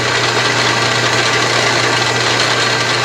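An Atlas/Craftsman 12-inch metal lathe runs at a steady speed, a loud continuous mechanical hum and whir with a constant low drone, close up and with no talking.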